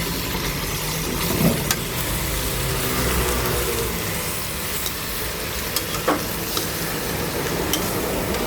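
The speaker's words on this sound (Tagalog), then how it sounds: "Ayan, nalagay ko na po yung karne. Tapos halo-halo dito." Pork being stirred and fried in a pan with browned garlic and onion, a steady close sizzle with scraping stir strokes throughout, loud and continuous with no talking.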